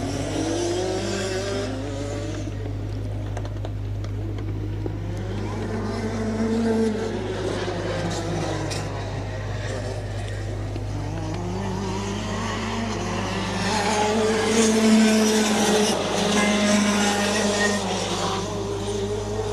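Rotax Max racing karts at the Rotax Max Challenge Namibia, Leg 8, scream past at speed, their high engine notes rising and falling in waves as they accelerate and pass, loud and sustained with no talk.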